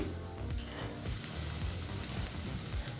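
Chopped onions sautéing in a pan for Tamil-style white vegetable kurma, giving a steady close sizzle and crackle with soft scraping bumps throughout, no voices.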